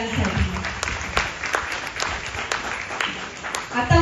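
An audience in a church hall claps for children at a Parents Day celebration at Our Lady of Light Church. The applause is steady and moderately loud, with sharp individual claps standing out throughout.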